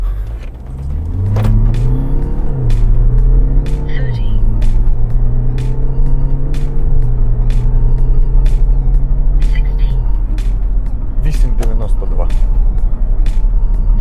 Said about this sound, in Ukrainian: Просто переставляємо ногу з тормоза на газ.